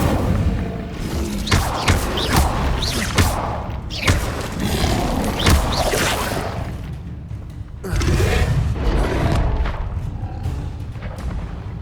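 A fire spell cast in the Hogwarts Legacy video game, heard as repeated booming blasts and thuds with crackling bursts, loud and close, spread across the whole stretch with a short lull near the end.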